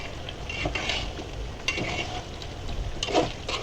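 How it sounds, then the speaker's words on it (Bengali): Beef with papaya and potato sautéing in spices, a soft continuous sizzle with intermittent scraping stirs of a spatula against the pot, close and moderate in level, no talk. "এখন একটু কষাই নিচ্ছি, তারপর পানি দিব।"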